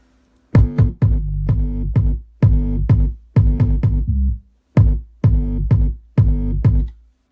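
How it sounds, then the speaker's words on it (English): Punchy kick drums with a deep sub-bass tail, hitting in short rhythmic bursts separated by brief gaps, loud and up close with no voices. "it sounds like this if you get only the kick."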